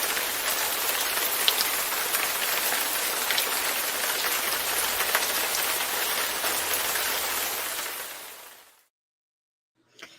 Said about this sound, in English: It's raining here and it's raining in the show.